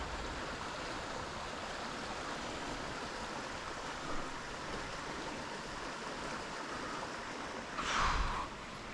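A small trout river runs just below a dam, its cold water flowing in a steady, full broadband rush close by, with a brief louder splash near the end.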